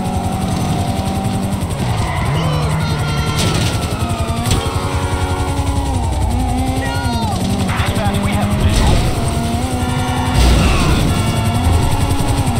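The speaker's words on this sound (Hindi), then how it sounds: "यार ये हेलीकॉप्टर थोड़ी दिक्कत करेगा" A helicopter in Grand Theft Auto 5 gameplay, its rotor whine and engine drone heard loud and continuous, mixed with car engines, skidding tires and crashes, while someone talks over it.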